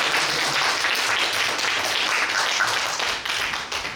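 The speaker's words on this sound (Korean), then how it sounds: "일단 박수 한번." Lecture audience applauding at an academy talk on Junggoje, the Chungcheong school of pansori, a dense, steady wash of many hands clapping together for about four seconds before thinning out.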